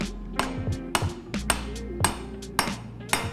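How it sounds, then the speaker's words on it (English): Hammer blows forging the point of a kukri blade ring out in a steady series, about eight sharp metallic strikes spaced roughly half a second apart, each with a brief ringing tail, close and clear with no talk. "So as we're forging this point,"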